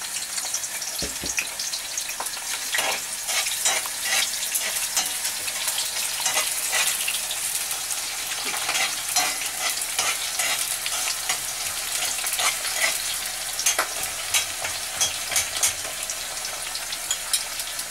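Beef frying and being stirred in hot oil, with a steady close sizzle broken by frequent spatters, crackles and scraping stir noises over a long stretch, with no talking.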